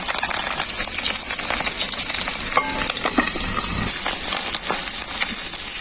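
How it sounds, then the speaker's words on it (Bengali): Fish roe frying in hot mustard oil in a wok, a loud close continuous sizzle and hiss with occasional scraping and clinks of a stirring utensil. "তেল খুব ভালোভাবে গরম হয়ে গেছে, মাছের ডিমটা ভেজে নেব।"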